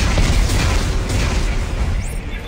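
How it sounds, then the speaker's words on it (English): A loud, sustained explosion from armed charges detonating in Dead Space 3, a broad roaring rumble that fills the clip and slowly eases off toward the end. "Computer, arm explosives, and detonate."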